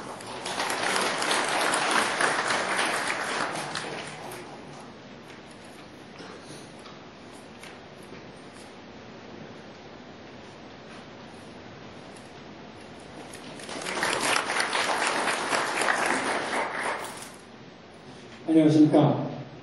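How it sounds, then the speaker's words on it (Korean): An audience claps to welcome a company CEO at an industry innovation presentation, with a few seconds of brisk applause, a quiet stretch, then a second burst of clapping and a brief voice at the end. "박수로 맞아주시면 감사하겠습니다"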